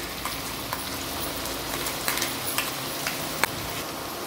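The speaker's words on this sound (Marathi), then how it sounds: "ह्या लसणाच्या पाकळ्या आपण तेलावर परतून घेतल्यानंतर हे जे आपण वाटून घेतलेलं ते ऍड करूया" Green ground masala paste goes into garlic cloves frying in oil for a green pomfret curry, giving a steady close sizzle with a few small crackles and pops.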